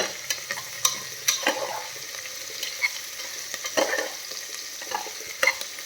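Vegetables sautéed and stirred in a pressure cooker for vegetable pulao give a steady soft sizzle, with sharp scrapes and clicks from a spoon against the pot at irregular intervals, close and alone.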